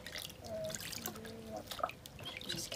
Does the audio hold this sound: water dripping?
yes